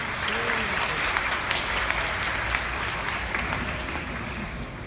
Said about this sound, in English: Let's give ourselves a warm round of applause.